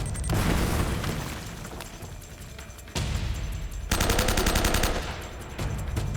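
Uncharted: Drake's Fortune gunfight with dense rapid gunfire and booming explosions, loud and close, bursts of automatic fire shifting in intensity with no talking.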